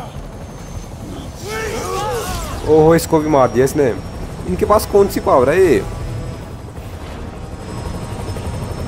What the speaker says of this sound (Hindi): ये क्या ऊपर हेलीकॉप्टर.